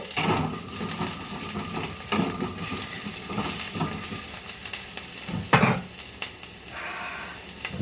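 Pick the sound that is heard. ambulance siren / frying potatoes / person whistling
frying potatoes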